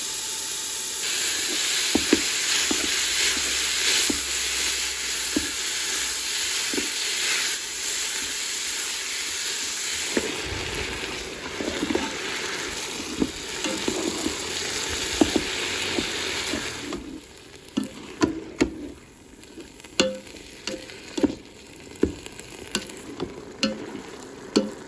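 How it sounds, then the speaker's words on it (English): Ground beef sizzles and hisses loudly in a Ninja Foodi multicooker, with a spatula scraping and stirring through it; the sizzle eases partway through as sharp clinks and scrapes of the utensil become more prominent. "I'm just gonna go ahead and add my ground beef."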